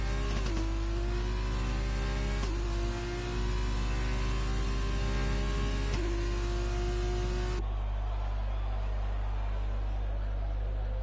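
An F2 race car engine in a racing video game on an out lap, a steady buzzing drone that climbs in pitch through several gear changes before cutting out, over a constant low hum.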